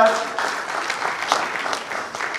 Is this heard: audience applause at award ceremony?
yes